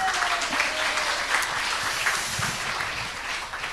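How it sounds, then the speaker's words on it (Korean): A church gathering's audience applauds as a pastor is invited forward, steady dense clapping filling the room for a few seconds at moderate loudness. "자 박수 한번 하겠습니다"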